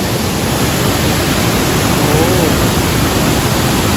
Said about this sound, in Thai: เราก็มาถึงแล้ว แต่ว่าฝนตกแล้วด้วย